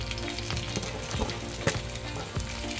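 Fifty grams of light green chilies, split in half, frying with onions in a pan, a steady close sizzle with occasional stirring clicks and scrapes, no voices.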